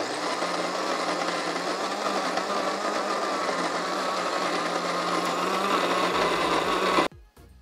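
A DeLonghi KG79 electric coffee grinder grinding beans, a steady, loud motorized whir that holds evenly for about seven seconds before cutting off abruptly, leaving only faint background noise.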